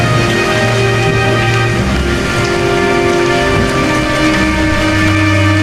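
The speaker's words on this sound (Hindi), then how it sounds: "हे भगवान, ये तो भयंकर बारिश है।" Heavy rain pours down in a continuous, dense hiss, drumming steadily on surfaces at close range with no pauses, accompanied by faint sustained musical tones in the background.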